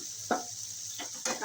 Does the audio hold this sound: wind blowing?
no